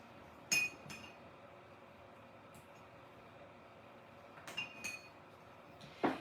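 A glass clinks three times, sharp and close, as rose gold craft paint is put into it, with quiet room noise between the clinks.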